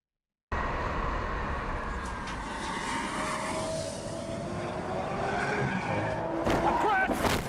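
A Rimac Concept One electric hypercar skids with a long, loud tyre scrub and rising rumble over about seven seconds, ending in sharper bursts of crash noise.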